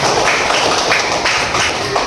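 Children in a classroom clap their hands together in a loud, close, rhythmic burst of repeated claps.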